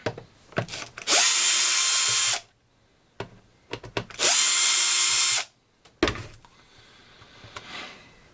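A power drill unscrewing screws from a noisy CPAP machine, two loud sustained whirring bursts of about a second each, separated by clicks and handling noises, close up with no talking.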